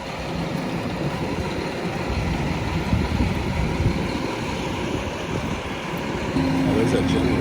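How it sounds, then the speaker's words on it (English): Generator running outdoors during the relocation of a historic building in Rockport, Texas, a steady low engine drone with traffic-like rumble, heard beneath people talking. "Oh, there's that generator."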